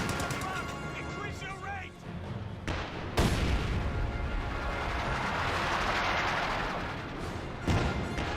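Pack howitzer artillery fire in a Company of Heroes 2 battle, booming shots and a heavy blast rolling through continuous gunfire and battlefield din, with a voice commentating over it.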